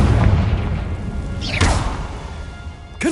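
A Confringo fire spell explodes in Hogwarts Legacy: a loud booming blast with a rushing whoosh that fades, followed by a sharp crack at the end, with no talking.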